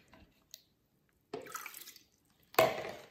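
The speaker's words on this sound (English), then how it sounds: "then I'm going to cover this with water" Water is poured from a container over fish in a pan in a home kitchen, two short splashing bursts separated by quiet, the second louder, after a few faint drips.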